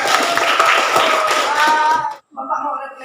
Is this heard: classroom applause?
yes